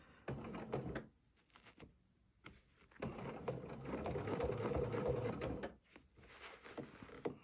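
A sewing machine stitching a placemat in short bursts of rapid mechanical whirring, broken by quiet pauses and a few soft clicks of handling, fairly close and moderately loud.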